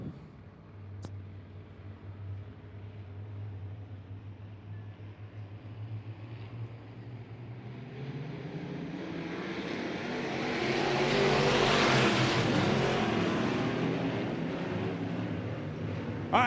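IMCA Sport Modified race cars at Southern Oregon Speedway produce a low engine drone that swells into a loud, roaring pass-by before easing off, with no talk.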